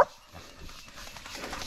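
Dogs bark during a wild boar hunt, with a sharp bark at the start followed by quieter scattered barking and rustling in the brush.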